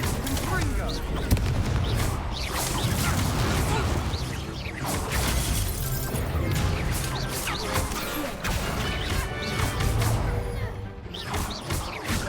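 Confringo fire spell explosions in Hogwarts Legacy during a dueling match: continuous loud blasts, crashes and whooshes overlapping densely, with brief voices mixed in.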